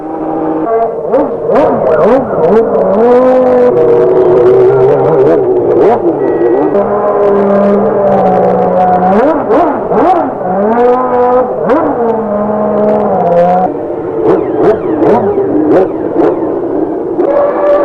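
Formula One cars run on track during a pre-race warm-up session, engines loud and close, revving up and down in repeated rising and falling sweeps throughout.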